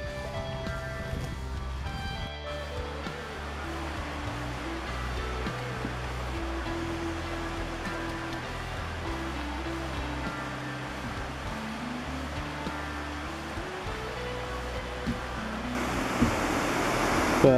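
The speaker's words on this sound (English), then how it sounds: "I was hoping to cross the river on the other side, but it's a fair raging" A fast, swollen river rushes past, a dense continuous roar of churning water that stays loud and even throughout, with faint low tones drifting underneath.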